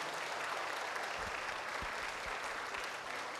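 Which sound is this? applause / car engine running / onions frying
applause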